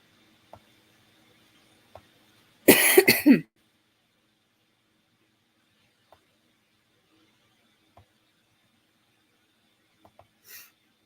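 A single short burst of coughing breaks an otherwise quiet room, followed by faint scattered clicks and a soft throat sound at the end.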